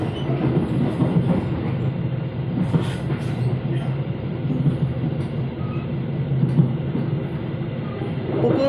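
The KA Gaya Baru Malang Selatan passenger train runs straight through Cirebon station without stopping, giving a steady, loud rumble of rail cars and wheels on track with faint clickety-clack throughout.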